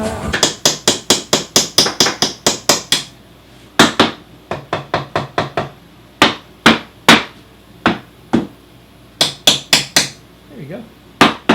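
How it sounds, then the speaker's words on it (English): Hammer driving nails repeatedly in a workshop vise setup, sharp loud blows in quick bursts of several hits separated by short pauses, close and clear with almost no talk. "Gotta get a hammer!"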